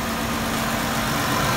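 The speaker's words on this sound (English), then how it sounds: "Now just run the engine to check for heat" A car with a 3.6L engine idles right after an oil cooler and filter housing replacement, a steady, even mid-low drone with a faint hum, close by and without talk.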